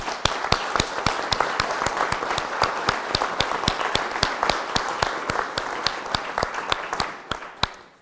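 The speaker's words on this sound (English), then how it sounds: "So a round of applause for Kelly and John." Audience applause at an artist talk, a small crowd clapping steadily with distinct, close individual claps standing out over a continuous patter for several seconds before fading away.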